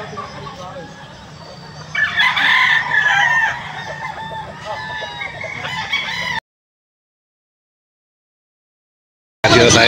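Fighting roosters crow loudly and repeatedly at an early-morning pet market, several overlapping calls and clucks over a murmur of market noise, then a sudden gap of silence before another burst.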